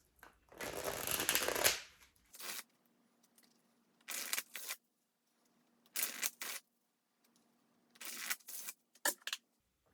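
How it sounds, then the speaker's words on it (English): A long riffle of shuffling a deck of tarot cards followed by several short bursts of cards being cut and bridged, close and crisp with quiet gaps between. "So I'm going to shuffle this deck"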